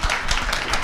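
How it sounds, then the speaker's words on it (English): A crowd at a pop culture convention panel breaks into applause, a brief wash of many hands clapping at moderate distance, fairly soft and without talking. "give them a round of applause, please"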